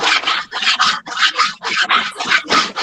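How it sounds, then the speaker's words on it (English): Repeated rasping strokes of sanding, about a dozen rhythmic back-and-forth passes, loud and close with brief gaps between strokes, no talking. "You're sanding something on a live show."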